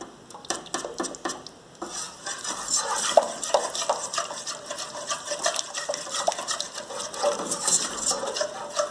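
Thickening chicken pie filling dough of milk mixture being stirred constantly in a pot, a busy run of scraping and knocking spoon strokes against the metal, close and steady throughout.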